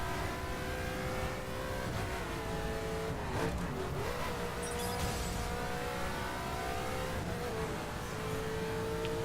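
Steady car engine drone from traffic in the racing game The Crew, with revving and passing vehicles blending into a continuous loud roar and a brief tire squeal.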